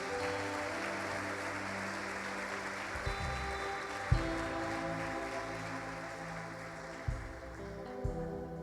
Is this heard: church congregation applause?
yes